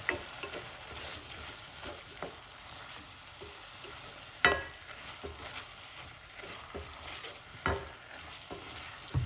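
Jerk callaloo being stirred in a pan, a quiet, steady background sizzle broken by occasional sharp scrapes and taps of the utensil, recorded close with no talking.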